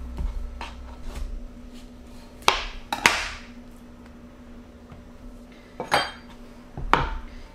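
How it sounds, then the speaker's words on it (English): A knife cutting through an avocado on a board, a few sharp taps and thuds spaced irregularly, close and fairly quiet with no talking. "First, cut the avocado."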